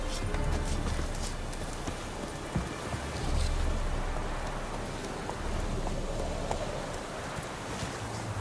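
Horse Roach's hooves clip-clop steadily in The Witcher 3, the plodding rhythm half-buried under a constant wash of rain and low ambient rumble, with no talk.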